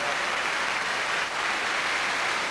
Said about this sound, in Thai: แม่ต้องขอเสียงปรบมือครับ